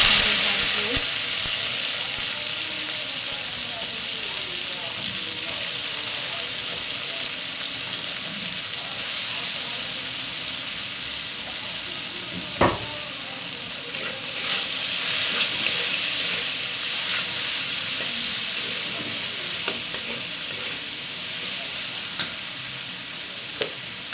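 Onion, garlic and chopped green chili with black cumin seeds hiss and crackle steadily in hot oil, a continuous close sizzle with light stirring scrapes and a brief sharp knock partway through, no talking.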